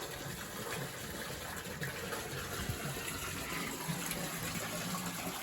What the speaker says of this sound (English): the water there that's channeling the hot spring into this pool here and here